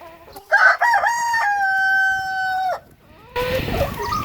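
A rooster crows loudly and close by in one long, steady, drawn-out call, with farmyard chicken clucking before it and after it.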